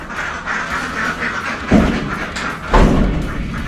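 Ducks on a farm at a mango orchard near Kabin Buri quack in a steady, overlapping chorus close by, with two heavy thuds breaking through partway.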